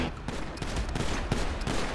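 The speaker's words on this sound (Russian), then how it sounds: "Откуда стреляют-то?" Gunfire in GTA 5 during a street shootout, with a dense, loud run of rapid shots and sharp cracks that keep going steadily for about two seconds.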